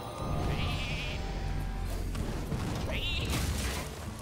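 Two sheep bleats from Hearthstone's card game, one near the start and another around three seconds, each a wavering nasal cry over a steady game music bed and clatter.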